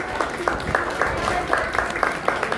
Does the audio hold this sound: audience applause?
yes